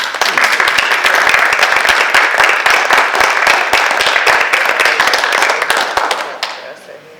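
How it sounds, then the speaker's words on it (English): Audience at a school board of education meeting applauds: loud, sustained clapping from a room of people for about six seconds, tapering off at the end. "Let's give them a round of applause"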